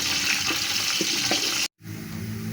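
Sliced onions fry in a pan with spices until light golden for matar pulao, giving a steady, close crackling sizzle that cuts out briefly for a moment before resuming.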